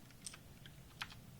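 A few quiet keystrokes on a computer keyboard, light clicks over steady room hum, close and faint.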